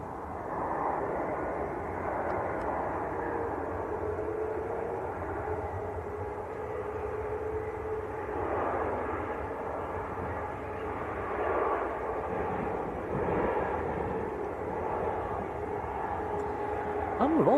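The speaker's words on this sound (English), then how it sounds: "EasyJet from Amsterdam on short finals. Airbus A320." An EasyJet Airbus A320 from Amsterdam on short final at Manchester makes a moderate, steady jet rumble that swells slightly toward the end, with a voice talking over it.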